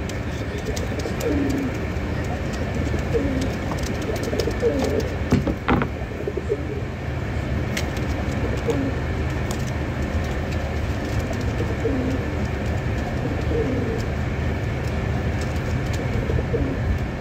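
Pigeons kept in a loft coo softly and repeatedly against constant low background rumble, with a brief clatter partway through and no talking.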